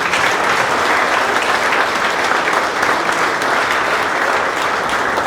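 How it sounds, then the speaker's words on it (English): Dense, sustained applause fills a high school athletic hall of fame induction ceremony, a large audience clapping steadily and evenly throughout without talk. "Let's have one more round of applause for all of our inductees."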